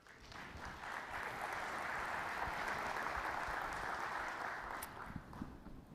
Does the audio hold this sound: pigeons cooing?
no